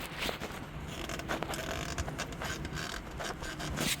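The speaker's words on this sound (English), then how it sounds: "And now I can take off the belt." A serpentine drive belt is worked off the engine of a 2002–2006 Nissan Altima 2.5L, giving faint creaking, ratcheting and rubbing scrapes close by with no talk.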